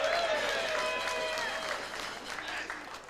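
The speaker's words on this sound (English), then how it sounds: "everybody clap after each name" A retirement dinner audience claps steadily, a broad sustained patter of many hands filling the room, with some speech faintly over the applause.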